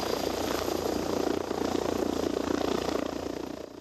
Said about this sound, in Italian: sul posto anche l'elicottero di Treviso Emergenza